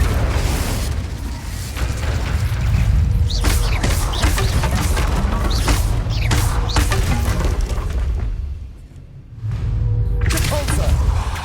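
Explosive blasts from a Confringo fire spell in Hogwarts Legacy, heavy booming bursts layered over continuous combat noise, with a brief lull before another loud blast near the end.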